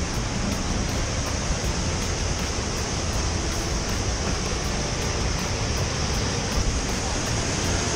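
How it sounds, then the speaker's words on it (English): Waterfall roaring along the Going-to-the-Sun Road, a loud, steady broadband rush of falling water that fills the whole stretch without pause. "We are chasing waterfalls"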